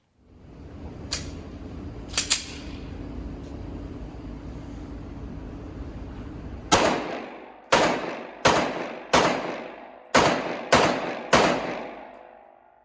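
An HK P30 pistol in .40 fires a string of sharp, loud shots at an outdoor range, six in fairly quick succession after a few fainter distant reports, each with a ringing tail.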